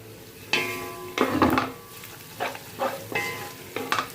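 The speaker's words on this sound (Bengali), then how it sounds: "পেঁয়াজ বেশ একটু ব্রাউন ব্রাউন করে নিই" Onions fry to brown in a large pot for chicken kosha, with a soft sizzle underneath and several close scraping and clinking stirs of a metal spoon against the pot, arriving in uneven bursts.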